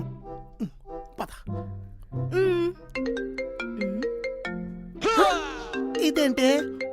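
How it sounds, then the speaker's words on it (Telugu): A mobile phone rings with a melodic ringtone in a Telugu family comedy sketch, its tune rising and falling as people talk over it. "అయినా ఫోన్ ఎలా రింగ్ అయింది?"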